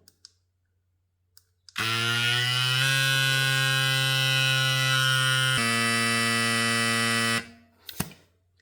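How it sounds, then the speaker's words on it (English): A small FLEXTAILGEAR 120 PSI electric bike pump inflates a bicycle tyre with a loud, steady motor buzz lasting about six seconds. Clicks from the button and valve come before and after the run. "As you've just seen, this little tiny pump works brilliantly."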